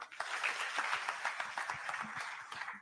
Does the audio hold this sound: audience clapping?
yes